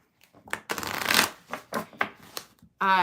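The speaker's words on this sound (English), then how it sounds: "I'm going to shuffle, read the chat, and we'll move on to Virgo." Tarot cards are shuffled by hand in quick riffling bursts, close and crisp, with a brief voice at the very end.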